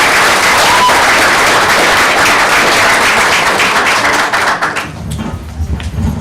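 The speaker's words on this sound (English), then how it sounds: "so please give her a big round of applause" An audience at a board meeting gives loud, dense applause that holds steady, then thins and tapers off near the end as scattered claps fade and a voice comes in.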